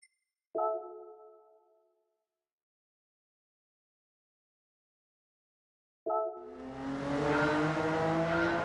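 Racing-game car engine, a GR4 class car, revs in two bursts: a short rising rev that quickly dies away, then after a silence a second rev building into a loud, sustained high-pitched roar.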